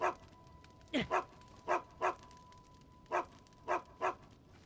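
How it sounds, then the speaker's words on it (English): A dog in Zelda: Tears of the Kingdom barks in short sharp yips, about seven in uneven pairs and singles, fairly close, over a faint steady tone and quiet game background. "I gave him an apple and he started barking at me."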